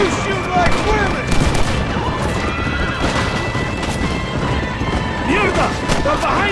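Gunshots crack through a shootout in the video game Red Dead Redemption, scattered shots and impacts mixed with shouting voices and other game action, loud and busy throughout.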